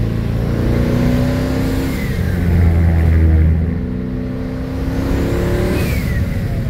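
Dodge Hellcat V8 engine revving and accelerating hard under driving, a loud, close, steady roar whose pitch climbs through the gears and then dips, with no voices.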